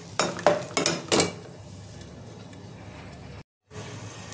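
Spice paste for hilsa polau is stirred and fried in a pan, opening with four loud scraping strokes against the metal over a low sizzle, then a quieter frying hiss with a brief dropout.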